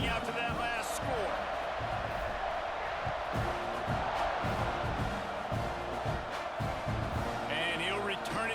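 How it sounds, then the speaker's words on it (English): Stadium crowd buzzing after a score in College Football 26, a dense continuous roar with scattered shouts and thumps, heard under steady commentary. "this crowd is buzzing after that last score"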